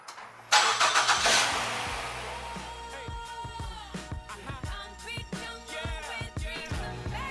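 A car engine cranks and fires into a loud start, then settles and revs as the vehicle pulls away, with a series of irregular clunks and rattles over the running motor; no one speaks.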